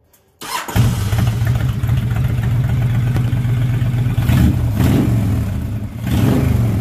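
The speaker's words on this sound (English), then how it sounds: "let's start her up for you real quick." A custom 2005 Honda VTX 1300C motorcycle with quiet baffles fires up after a short crank, then settles into a steady, loud, close idle with a deep rumble and a few slight throttle swells.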